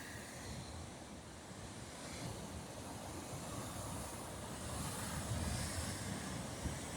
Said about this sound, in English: Looking for these crashing waves.